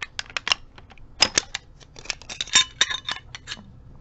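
A WW2 Type 99 naval training rifle bolt, Mauser-style, is being taken apart by hand: rapid close metallic clicks, snaps and sliding scrapes in irregular bursts, crisp and fairly loud with no talk.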